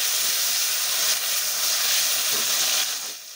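Chopped tomatoes dropped into hot mustard oil for a Bengali biuli dal with prawns, giving a loud, steady broadband sizzle and hiss that holds throughout and eases slightly near the end, with no voices.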